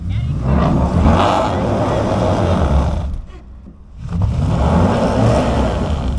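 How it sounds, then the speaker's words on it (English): A Ford on street tires stuck on a traction board, its engine roaring and revving hard as the wheel spins, dropping off briefly before surging loud again, with people talking nearby. "your tire's just not gripping on that board"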